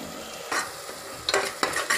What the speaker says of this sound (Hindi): इसको हम फुल फ्लेम पर ही पकाएंगे